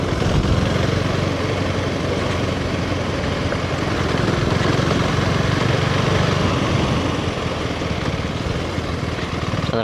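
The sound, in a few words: 390 motorcycle engine running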